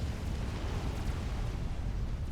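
A commander unit blows up in Supreme Commander: Forged Alliance, heard as a dense, sustained low roar of rumbling noise without distinct sharp peaks.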